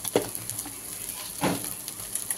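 Spice masala with sugar sizzles in a pan as it is sautéed for doi katla. A soft, quiet frying hiss sits under two distinct scraping stir strokes.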